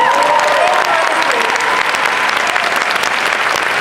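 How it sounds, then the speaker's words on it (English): Loud, dense applause from a convention crowd at a fan panel, sustained and roaring with cheering voices mixed in throughout. "Can we give her a round of applause for that?"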